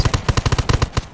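Rapid automatic gunfire in the survival shooter Undawn during a PvP supply-camp battle: a loud, close burst of about a dozen shots in quick succession.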